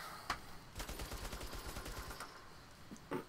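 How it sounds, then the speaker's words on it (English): Gunfire in the PSVR shooter Bravo Team: a rapid run of fairly faint, crackling shots in quick succession, with a few isolated louder bangs before and after. "I tried shooting my gun."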